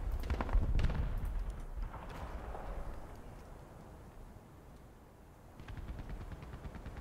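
Heavy cannon fire in the War Thunder simulator battle, a loud cluster of booming shots at the start, then rumbling decay and quieter background, with a few later sharp bursts.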